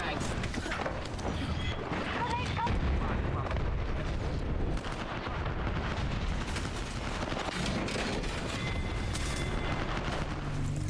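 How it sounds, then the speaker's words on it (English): Frag grenade blast and rapid gunfire in the shooter game Apex Legends, dense booming and crackling shots layered under continuous talk throughout, loud and busy with no clear pause. "Throwing frag."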